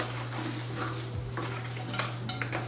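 Big Boss air fryer lid, large and bulky, handled with light hard clatters and knocks of plastic and metal over a steady low electrical hum, brief and close.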